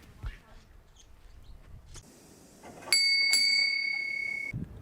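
A bell rings at the UGA Veterinary Teaching Hospital on College Station Road, two bright clear strikes followed by a sustained ringing tone, after quiet background sounds.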